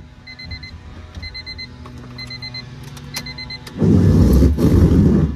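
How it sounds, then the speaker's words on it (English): Several short repeated electronic beeps from a 1997 Honda Civic EK hatchback as the key is turned, in evenly spaced bursts, followed by a louder rumbling noise near the end. "There's that classic Honda beep."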